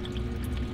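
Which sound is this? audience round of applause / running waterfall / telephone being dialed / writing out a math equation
running waterfall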